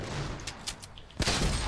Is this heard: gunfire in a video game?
yes